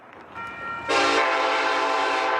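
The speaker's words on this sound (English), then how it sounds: "that train horn in some cases can be heard for miles" A loud, sustained train horn sounds at a railroad crossing, entering with a sharp onset and then holding steady as a harmonic blast, preceded by fainter rail rumble.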